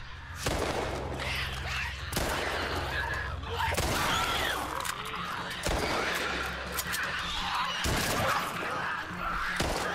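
A spike bomb in The Last of Us Part I sets off repeated loud, crashing bursts spaced a couple of seconds apart amid chaotic, noisy game action with shouts and gasps.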